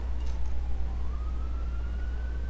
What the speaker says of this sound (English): If you guys can hear the sirens, I apologize.